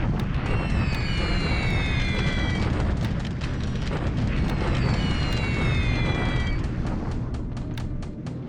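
Bombing raids in a WWII Pacific strategy game rumble as a continuous heavy roar of explosions, with whistling falling tones sweeping downward twice over the din and no talking.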